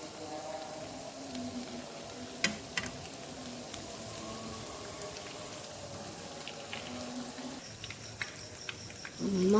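Hash browns fry quietly in hot oil in a pan, giving a soft, steady bubbling sizzle with occasional faint clicks and light taps throughout.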